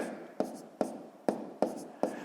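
A pen writes numbers by hand on paper during a sixth-grade maths exercise, five quick tapping strokes at an even pace, quiet and close.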